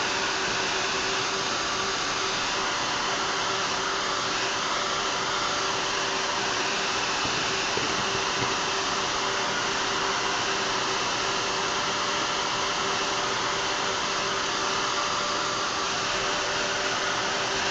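A hair dryer blows steadily on wet paint on a batik elephant canvas, a loud continuous whooshing drone with a faint whine that holds evenly for the whole stretch, with no talking.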